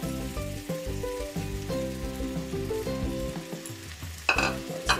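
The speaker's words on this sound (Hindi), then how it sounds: "इसके अंदर हम तोरी को डाल देंगे जो मैंने काट कर रखा है।" Chopped ridge gourd drops into chana dal and tomato frying in a pan, giving a steady sizzle with stirring over tonal background music, then a louder burst of crackling near the end.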